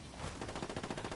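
Automatic gunfire in the video game Ghost War, a short fast burst of rhythmic shots, loud and close.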